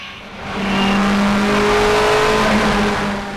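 A Mini race car in an all-Mini class at the Gurston Down hillclimb, riding high on its suspension, revs hard as it accelerates: a loud, sustained, rising engine note close by with no voices.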